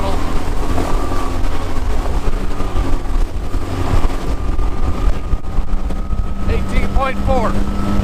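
A boat driven by a 15 HP Mercury outboard motor, still being broken in, drones loudly and steadily as a little more throttle is added, with wind buffeting the microphone throughout.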